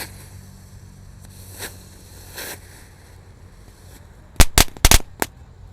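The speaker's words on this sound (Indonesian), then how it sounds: "selanjutnya kita nyalakan 2 mercon tank sekaligus" Two tank-style firecrackers (mercon tank) lit together fire off a rapid cluster of sharp, loud cracks near the end, preceded by a few fainter pops over an outdoor hiss.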